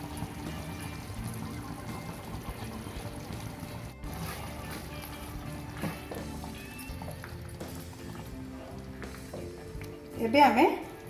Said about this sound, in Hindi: मु पनीर को फ्राए करिनी